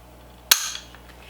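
A drop-in CMC rifle trigger snaps once during a pull weight test, a single sharp, close crack that fades quickly in a quiet room.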